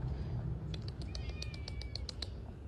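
A stray, thin cat mews several times in a short burst of high, close calls, heard over a steady low background rumble outdoors.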